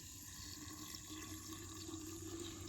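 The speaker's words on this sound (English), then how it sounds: "I'm just going to go ahead and pour my water in." Water is poured steadily into a glass sun tea jar as a faint, continuous trickle and splash, with no talking over it.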